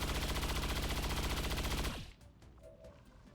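Rapid automatic gunfire from soldiers in the XCOM 2 strategy game hammers continuously for about two seconds, then cuts off, leaving a few faint scattered pops and clicks.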